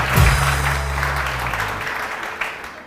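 Studio audience applause for Dr Tabrez on a TV morning show, a close, dense wash of clapping that starts loud and tapers slightly over a few seconds.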